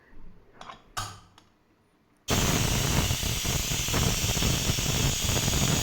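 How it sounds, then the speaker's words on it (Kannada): A pressure cooker cooking vegetable pulao: a few light clicks and rattles, then a sudden loud, steady rush of hissing steam from the whistle that carries on to the end. "1 ರಿಂದ 2 ವಿಸಿಲ್ ಬರೋವರೆಗೂ ನಾವು ವೆಯ್ಟ್ ಮಾಡಬೇಕು"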